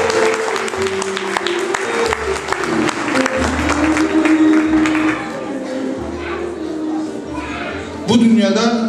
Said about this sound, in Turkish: ikisine kuvvetli bir alkış istiyoruz sizden